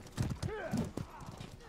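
A horse in the medieval combat game Mordhau gallops with brisk hoof clip-clops and gives a short whinny, heard under a player's talk.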